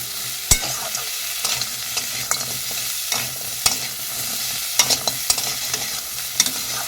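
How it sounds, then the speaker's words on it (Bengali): Green chili being stirred through fried crab in a hot pan, a steady sizzle with spatula scrapes and clinks scattered throughout, close and clear with no talking. "কাঁচা লঙ্কাটা নাড়িয়ে নেব"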